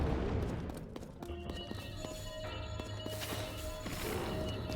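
Tears of the Kingdom battle with a busy mix of gunshot-like bursts, crashes and booms over a steady game soundtrack, dense and continuous with tonal chimes layered throughout.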